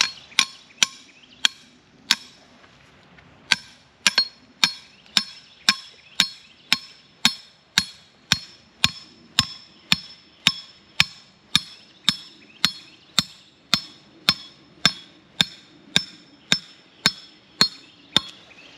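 A stake setter driving a trap stake into backyard ground, about thirty sharp metallic hammer strikes at a steady, slightly quickening pace, loud and close, with no talking.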